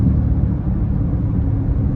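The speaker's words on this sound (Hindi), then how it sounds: "या तो ये स्पोर्ट गाड़ी की आवाज़ दे रही है, और या फिर जो है ऐसा लग रहा है मुझे तो जैसे ट्रैक्टर चला रहे हैं भाई हम।" A car engine rumbles steadily and loudly at close range, a deep, coarse drone likened to a sports car or a tractor, holding constant with no revving or pauses.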